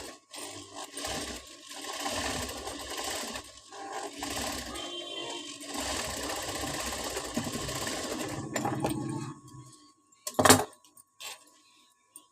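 A sewing machine stitching a Peter Pan collar around the neck of a girl's frock, running in uneven bursts of rapid mechanical stitching with brief pauses, then stopping, followed by a sharp metallic clink and quiet rattles.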